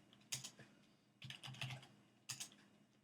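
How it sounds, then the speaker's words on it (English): Password typed on a computer keyboard during a web hosting server setup, three quick bursts of close, crisp key clicks separated by short pauses, with no voices. "I will just type admin"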